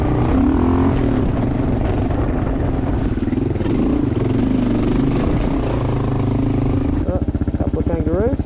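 Adventure motorcycle ridden loose and relaxed along sandy single track, its engine droning loud and steady throughout, with the pitch rising and falling as the throttle shifts, then revving into a rougher, pulsing note near the end.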